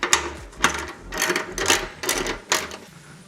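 Bolts being tightened on the shave plate of a Troy Bilt 2410 snow blower, with repeated close ratchet clicking in about five bursts separated by short pauses.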